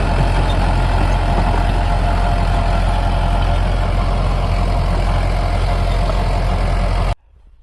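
Tractor with power steering, its engine idling loud and close in a steady, heavy diesel rumble that runs unbroken, then cuts off abruptly near the end.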